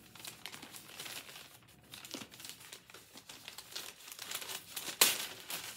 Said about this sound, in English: They wrapped it in newspaper, which is nice.